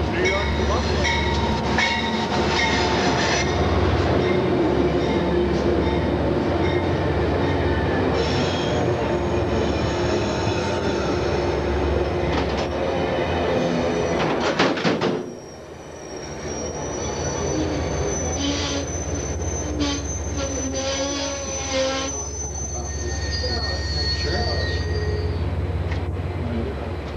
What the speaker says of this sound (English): we have a train coming in from New York to Buffalo